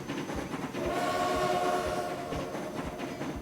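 Locomotive whistle in the railway video game Transport Fever 2 sounds one long sustained horn tone over a rolling train rumble and rhythmic wheel clatter, fairly close, with no voices.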